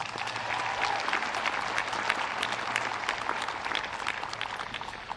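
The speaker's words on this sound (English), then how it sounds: "Let's give them a round of applause." A crowd applauds steadily at a high school graduation ceremony, heard from a distance at a modest, even level that holds without breaks.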